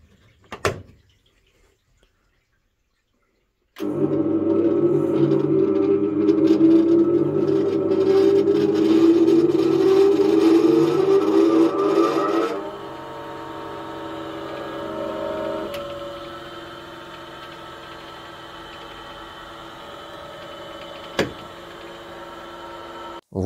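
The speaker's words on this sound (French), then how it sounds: "j'ai refait des essais pour faire fonctionner le touret à meuler avec les meules" A Peugeot Production MM300 bench grinder fitted with new, full grinding wheels switches on and runs with a loud steady whine and hum, then cuts off and spins down with a fading tone, a click near the end.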